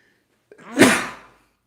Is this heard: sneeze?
yes